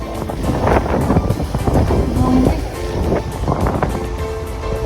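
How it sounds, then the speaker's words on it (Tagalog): Steady, loud wind buffeting the microphone, with a low rushing roar and gusty surges throughout, and faint water or boat sounds underneath. "Napakalakas naman talaga ng hangin ng araw na yan."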